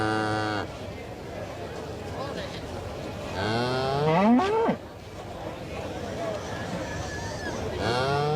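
Cattle moo repeatedly at an agricultural show on King Island, long low drawn-out calls from several animals, some close and loud, rising and falling over a background of crowd murmur.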